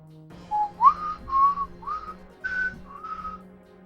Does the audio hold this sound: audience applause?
no